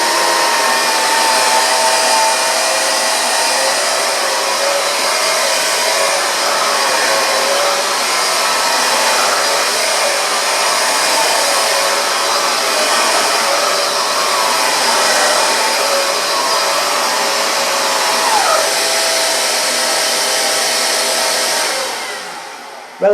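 A Vax Air cordless upright vacuum cleaner runs with a loud, steady high-pitched motor whine and airflow hiss, holding constant for over twenty seconds before cutting off at the end, with no one speaking.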